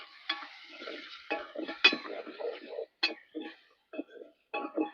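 Dal being stirred as it fries in a pan, with repeated scraping strokes and clinks of a spoon against the metal over a soft sizzle, close and fairly loud in short bursts.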